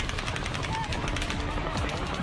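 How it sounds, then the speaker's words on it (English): Rapid automatic gunfire from the Las Vegas Strip shooting at a country music festival, a fast rattling burst heard from a distance, faint and muffled under crowd noise. "That's the sound of bullets taking over the arena at a country music festival on the Strip."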